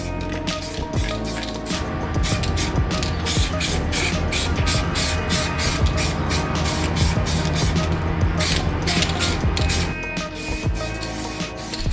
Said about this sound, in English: I'm spraying slower and a little bit closer to the brakes.